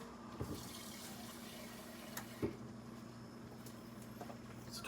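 Water runs from a kitchen tap into a crushed tomato can, rinsing it out in a steady, quiet flow with a couple of soft metallic clunks from the can. There is no talking.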